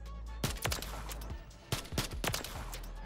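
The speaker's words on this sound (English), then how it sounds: "Just shoot three enemies." Gunfire rings out in the Call of Duty Modern Warfare 3 video game as enemies are shot, with several bursts of sharp rapid shots in quick clusters over a steady game background, and no talking.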